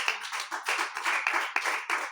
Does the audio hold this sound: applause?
yes